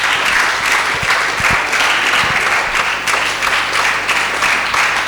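A school audience applauds the Methodist girls team at a senior high school renewable energy challenge, steady, dense clapping from a large crowd filling the room for several seconds.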